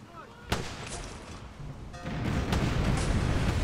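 Cannon fire from a ship in the PC pirate game Tempest: one sharp, loud boom stands out early, then heavier rumbling blasts pile up over ongoing noise, with no talking.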